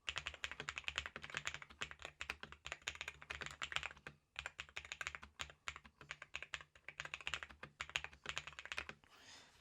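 Rapid, close typing on a modded budget AliExpress mechanical keyboard, a dense stream of crisp key clacks with a short pause partway through and no talking.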